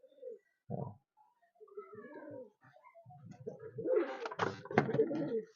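A Kalanka racing pigeon coos nearby in a series of soft, throaty bursts that build toward the end, heard alone in a quiet setting.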